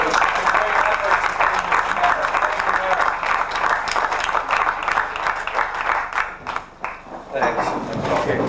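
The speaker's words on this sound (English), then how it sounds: "I think we'd like to give a big round of applause for Eric Leo Berg." Audience applauding at a press conference in Hamburg, a dense loud burst of clapping that holds steady and then thins out, with a voice talking underneath.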